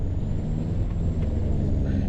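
An old Kenworth truck rumbles along steadily in the Farming Simulator 25 game, a dense low engine drone with a faint high whine and no distinct air brake hiss.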